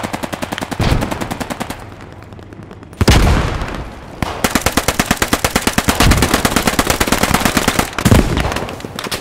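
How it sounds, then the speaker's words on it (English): Sustained machine gun fire in the World War II shooter Post Scriptum, Arnhem map, with rapid dense bursts, short pauses and loud bangs between the volleys. "Machine gun is setting us out here."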